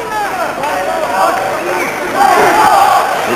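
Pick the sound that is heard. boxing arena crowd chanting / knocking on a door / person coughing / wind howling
boxing arena crowd chanting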